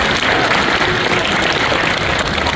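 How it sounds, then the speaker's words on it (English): Steady applause from an audience at a live tiger show, a dense continuous patter of clapping from many hands that holds at full strength throughout with no voices standing out. "keep that round of applause going for our amazing tiger handlers"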